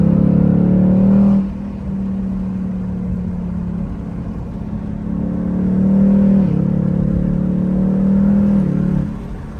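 A Ford Mustang Mach 1 (S550) accelerates with a loud, close engine drone that rises and falls through gear changes. Faint exhaust pops and crackles sit beneath the dominant engine note.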